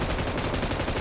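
Dense automatic gunfire in PUBG, a loud, steady rattle of rapid shots filling the whole short moment, close and without talk.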